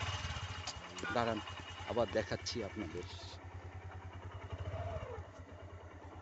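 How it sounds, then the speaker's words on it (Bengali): A motorcycle engine runs steadily after being started, a low continuous idle beneath people talking close by. "এই হয়েছে, বাইকটা স্টার্ট"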